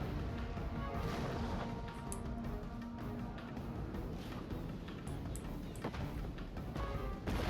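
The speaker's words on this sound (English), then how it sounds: "Mortar continuing to fire." Mortars fire in a Total War: Attila battle running the 1212 mod, with dense, continuous rumbling and crashing and several sharp thuds rising out of a loud, cluttered battlefield din.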